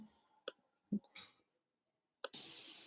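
A few sharp, isolated computer mouse clicks sound close and quiet in an otherwise silent room, spaced unevenly over a couple of seconds.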